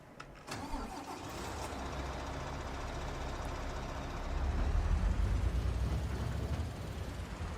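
A tractor engine in Farming Simulator 25 starts up close by, then settles into a steady mid-pitched idle that grows louder and heavier partway through, with no talking over it.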